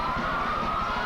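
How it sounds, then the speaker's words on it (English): Police sirens wailing at a Manhattan parade in New York, a loud steady tone that holds evenly through the whole second over a rumbling street background. "that beautiful sound of sirens belongs to Manhattan's finest"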